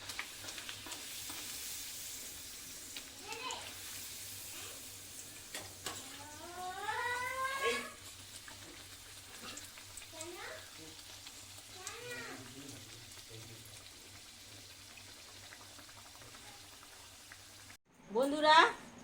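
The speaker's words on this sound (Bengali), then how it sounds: "এইরকম করে আমি সমস্ত কচুরিগুলো একটা একটা করে ভেজে নেবো" Soybean kachori deep-frying in hot oil, a faint steady bubbling sizzle under intermittent spoken voice, with a brief louder clatter near the end.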